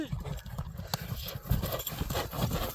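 A tall horse, about 1.70 m, runs close by with loud, rapid clip-clopping hooves in a steady galloping rhythm and faint background voices.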